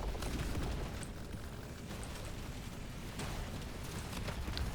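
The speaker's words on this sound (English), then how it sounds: "The explosion of the rocket still seems extremely small for the graphic at least." Rocket explosions in Deep Rock Galactic: Survivor come as a continuous faint rumble of small, repeated bursts and pops, low and muffled, with no single standout blast.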